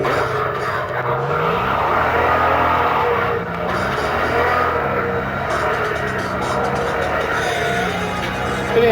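Sports car in Cyberpunk 2077 driving at steady engine drone with swooping tire-skid squeals recurring throughout, loud and continuous with no talk.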